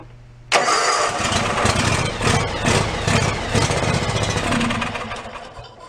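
An abandoned John Deere X360 lawn tractor engine with carburetor trouble cranks and catches abruptly, then runs loud and rough close by for several seconds before settling.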